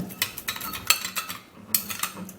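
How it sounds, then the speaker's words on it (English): Spoon stirring brown sugar into potato juice, quick clinking taps of metal against a container in an irregular rhythm, close and fairly light, with no talk. "going to be stirring this all up"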